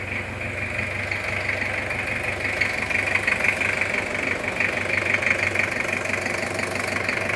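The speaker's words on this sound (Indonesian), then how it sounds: "Alhamdulillah dari mesin sudah bisa hidup." A Toyota Kijang with a 2L diesel engine idles after being freshly assembled, giving a steady, close, continuous rumble with a knocking diesel clatter that holds even throughout.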